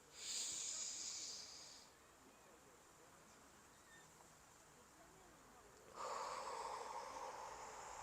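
A person takes deep breaths during a home exercise workout aimed at reducing swelling, with two long, airy inhales separated by a quiet pause, heard up close and alone.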